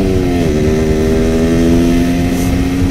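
A motorcycle engine drones loudly and up close while riding, holding a steady pitch that dips slightly early on, with no talk.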